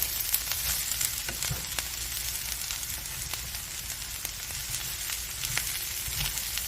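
Ground turkey, cabbage and vegetables sizzle steadily in a skillet, a continuous bright crackle scattered with sharp spatter clicks and soft stirring scrapes, close and without talk.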